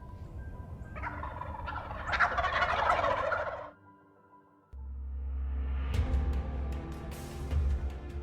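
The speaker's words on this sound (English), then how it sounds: "I hear the thunder of a turkey gobble in the tree that I'm sitting under" Wild turkeys gobble from a tree line at dawn, one loud rattling gobble close overhead followed by a brief lull and then further gobbles layered over a low rumbling background.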